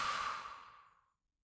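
A single deep, breathy exhale during guided relaxation breathing, soft and close, fading away smoothly over about a second into silence.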